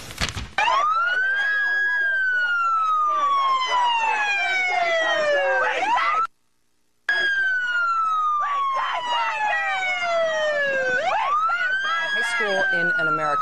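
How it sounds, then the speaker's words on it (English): Loud wailing police car sirens in Detroit sweep up and down continuously, close by, with a brief silent gap midway before the siren resumes. "The police turned on the sirens of their police cars to drown out the girls' voices"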